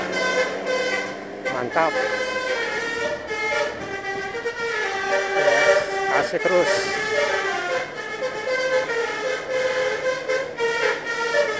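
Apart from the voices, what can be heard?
telolet bus horn of Miyor Holiday bus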